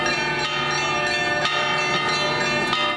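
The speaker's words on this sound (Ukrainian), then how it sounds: "На Софіївській дзвіниці священик Іван Сидор, який 5 років тому за часів Майдану підтримував людей дзвонами" Church bells ring out from the St. Sophia bell tower in Kyiv, loud and close, with repeated overlapping strikes and long ringing tones that blend into a continuous peal, with no voices.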